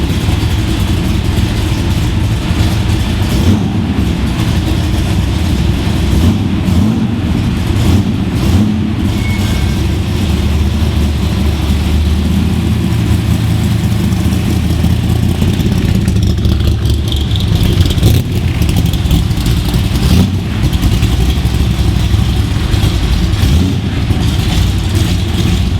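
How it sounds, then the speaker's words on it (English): Hand-polished custom Ford 390 FE stroker, 452 cubic inches and 512 horsepower, in a Cobra 427, rumbling loud and steady at close range for the whole stretch with no clear rev peaks. "It's a hand-polished, custom-built Ford 390 FE stroker with 452 cubic inch displacement."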